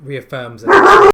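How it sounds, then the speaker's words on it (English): A pet dog gives one loud, close bark right after a man's brief speech, during a tabletop role-playing game session held online. "Sorry, that's my dog."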